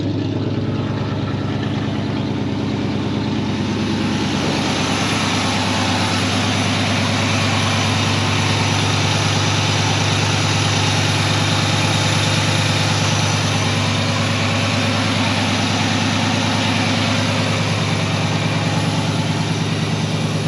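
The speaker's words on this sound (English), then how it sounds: "She's got a little bit of a stumble there. We'll see if that comes around a little bit. It hasn't been started in a while" A 1987 Chevy Silverado truck engine, not started in a while and fitted with a small muffler, idles loud and steady with a deep, continuous rumble and a slight rough stumble.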